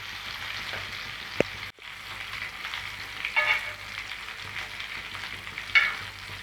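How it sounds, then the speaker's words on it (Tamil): Sweet potato cutlet frying in a pan, an even oily sizzle and crackle throughout, broken by a sharp tap and a brief dip as the cutlet is turned, then scraping touches, close and unvoiced. "இப்போ நம்ம இன்னொரு பக்கம் திருப்பி விட்டுப்போம். ஸ்லோவாக பண்ணுங்கள், இல்லைன்னா கட்லெட் உடஞ்சிடும்."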